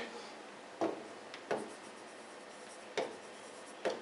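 Pen strokes on paper while a solution is written out, four short scratchy bursts spaced irregularly, close and fairly quiet, with no talk over them.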